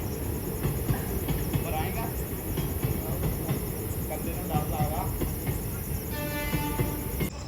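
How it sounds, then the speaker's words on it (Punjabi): A train passing at night near a derelict godown, a steady low rumble with faint clickety-clack, crickets chirping around it, fairly distant and constant. "ਇਹ ਰਾਤ ਨੂੰ ਇੱਥੋਂ ਟ੍ਰੇਨ ਲੰਘ ਰਹੀ ਹੈਗੀ"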